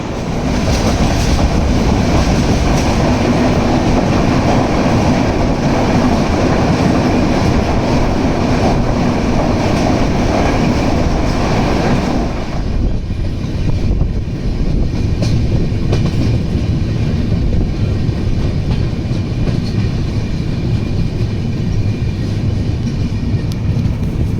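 Loud, continuous rumble of a Konkan Railway train running on tracks between Ratnagiri and Dadar, steady roar with faint rhythmic clatter throughout, heard from inside.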